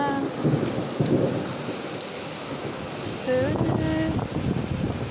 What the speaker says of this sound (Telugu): ఇప్పుడు బాగా వాన వస్తుంది